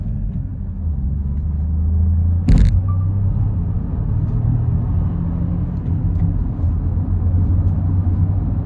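A BMW 218i Gran Tourer accelerates off a junction, its engine a loud, steady low drone and rumble from inside the cabin, with a brief sharp click partway through.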